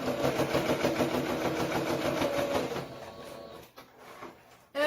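A sewing machine stitches through fabric with a steady, fast mechanical whir for about three seconds, then stops, leaving quieter handling noises and a sudden loud knock at the very end.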